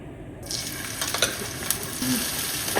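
Hot oil sizzling in a pan for a baghar tempering, a steady frying hiss that starts abruptly and carries on with faint clinks and stirring, no speech.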